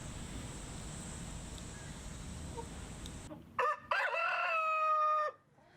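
A rooster crows once, loud and near, in a rural Jangheung home in South Jeolla, following a stretch of steady wind-like noise, with no talk over it.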